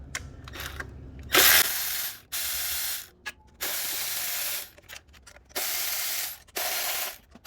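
Ratchet wrench working the bolts off a BMW 340i B58 engine during a spark plug job: repeated bursts of fast clicking pawl ratcheting, close and loud, separated by short pauses, with no talking.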